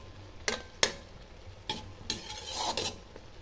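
Cauliflower going into a hot pan and stirred, with a few sharp scrapes and knocks of a utensil against the pan over a soft background sizzle, close by and with no talking.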